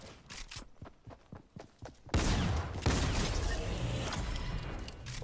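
Rapid gunfire from the Fortnite video game, a string of sharp shots in quick succession followed by a louder, denser burst of blasts and rattling that carries on to the end.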